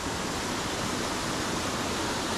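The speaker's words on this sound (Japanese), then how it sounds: "うわー、すげえ滝だな。" Powerful mountain waterfall on a headwater stream, a loud steady broadband roar of falling water filling the whole moment without pause.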